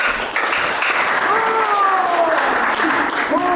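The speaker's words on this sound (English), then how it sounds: "How about giving our warrior a round of applause?" An audience claps steadily for a Maori warrior after a haka demonstration at a Maori village, dense applause filling the space while voices call out over it.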